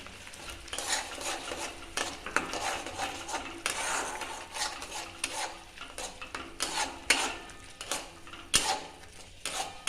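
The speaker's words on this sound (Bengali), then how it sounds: "আমি একটু পালং শাকটা দিয়ে কষাচ্ছি" Boiled, ground spinach paste being sautéed with spices in a pan for a green chicken curry: continuous scraping and stirring strokes with frequent metal clinks of the spatula against the pan over a soft sizzle, close up, with no voices.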